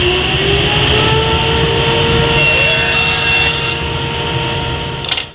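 A table saw rips 1/4 inch by 1/4 inch wood strips fed with a GRR-ripper push block, a loud steady whine and rasp of the blade cutting throughout, dropping off as the cut ends.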